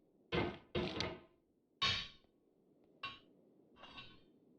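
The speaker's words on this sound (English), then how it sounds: "You slam the hammer into the anvil from the start." Five sharp metallic thunks from a hammer striking an anvil in the video game Getting Over It, the first three close together and loud, the last two softer and spaced apart over a low background hum.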